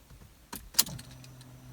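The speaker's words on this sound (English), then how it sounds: "as soon as I turn the ignition on" Keys jangle and the ignition clicks in a 2005-2009 Ford Fiesta Mk6, with a sharp mechanical snap as the key turns, followed by a low steady cabin hum.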